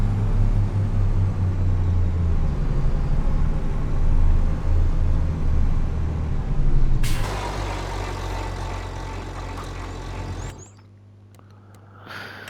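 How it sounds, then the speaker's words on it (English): A New Holland tractor drives in Farming Simulator 25, its low engine rumble steady and close, then shifting in tone with a hiss-like release before cutting out to quiet near the end. "If I jump into this New Holland, bring this back up to the farm"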